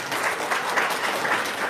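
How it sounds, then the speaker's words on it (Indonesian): An audience claps steadily at an Indonesian talk or seminar, a dense, even patter of many hands sustained throughout at moderate loudness. "Tepuk tangan dong"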